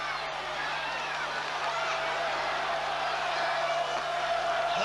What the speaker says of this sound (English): The crowd are loving it now.